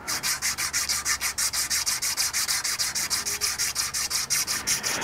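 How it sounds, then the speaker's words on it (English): Sandpaper rubbed by hand over oxidized metal on a vise, a steady rhythmic back-and-forth scraping of about four strokes per second, close and loud, with no talking. "Go to the sandpaper for this."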